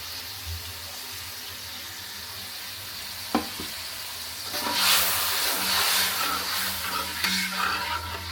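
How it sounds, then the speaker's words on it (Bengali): Ginger frying in a pan, with a steady soft sizzle and hiss that swells louder midway as it is stirred, a sharp clink near the middle, no talking. "এগুলো সব কিছু এখন কষিয়ে নিব"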